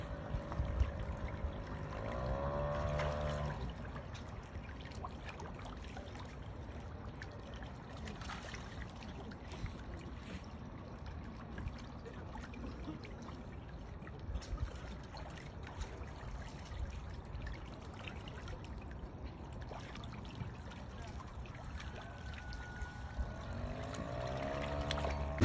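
Water pours and splashes steadily as a barrel of Karelian trout is released into a pond at a fish stocking, a continuous rushing flow heard from nearby for the whole stretch.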